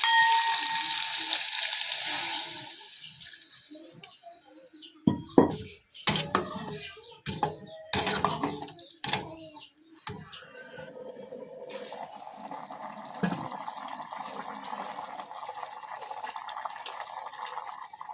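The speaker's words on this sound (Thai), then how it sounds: "เราจะใส่น้ำล้างครก" Water is poured into a stone mortar to rinse it in a home kitchen, splashing and sloshing with clatters of the mortar and utensils, then a steadier running trickle toward the end.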